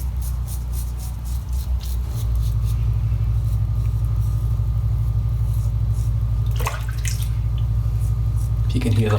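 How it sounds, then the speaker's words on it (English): A wheelie bin cleaning truck works outdoors, a steady low engine rumble and drone with hissing water spray, heard continuously from a short distance away. "If you can hear that noise outside, that's actually my bins being cleaned by Kev of Wheelie Clean"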